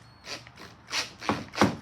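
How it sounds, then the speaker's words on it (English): Screws driven into a plastic F150 taillight socket give several short, rough cracking and grinding bursts in a loose rhythm, close up and moderately loud. "they're going into plastic. That's why you're getting that little cracking sound."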